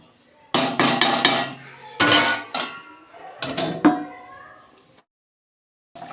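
A metal lid clatters onto a pan of bata fish curry cooked with mustard and poppy seed, giving several sharp, ringing clanks in quick close bursts before the sound stops.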